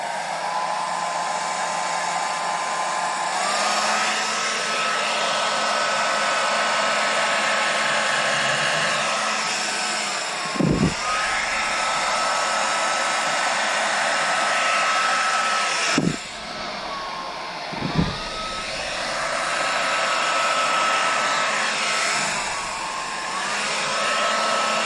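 A hair dryer blowing acrylic paint across a canvas for a Dutch pour, a loud, steady close whirring roar sustained throughout, with a few brief bumps and dips as it is moved or switched.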